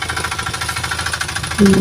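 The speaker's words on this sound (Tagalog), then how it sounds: "Ang makina ho ang ginagamit sa pagbumba." An engine-driven pump used for spraying mango trees runs with a steady, rapid pulsing chug, loud and close, with a brief louder burst near the end.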